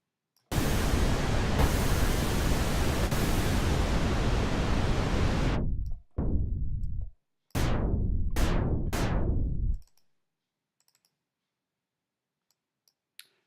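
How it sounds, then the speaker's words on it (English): Pink noise from a U-He Tyrell N6 software synthesizer plays as a loud, even hiss for several seconds, then returns in a few shorter bursts that cut off abruptly before silence. "and pink noise in the middle."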